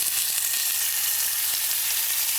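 Steady, close sizzling of a halibut fillet frying skin-side down in a hot pan, a continuous bright crackle with faint pops and no talking.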